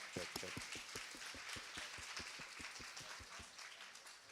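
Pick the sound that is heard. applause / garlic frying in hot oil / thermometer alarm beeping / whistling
applause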